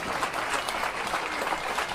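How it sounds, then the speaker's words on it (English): Strangers in an airport terminal applaud a returning soldier greeting his mother, a continuous, fairly close round of clapping from a small crowd with faint background murmur. "Zander was applauded by strangers at the airport"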